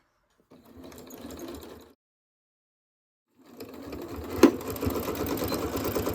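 Sewing machine stitching a tote bag, two bursts of steady motor-driven stitching separated by a pause while the fabric is turned at a corner, close and fairly loud with a sharp click in the second run.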